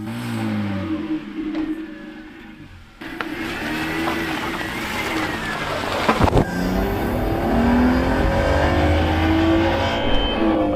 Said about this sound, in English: We're going to take it for a drive and see if it works or not.